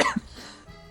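A person coughs once, sharply and up close, from dust raised while cleaning a ceiling fan. The cough quickly fades into quiet.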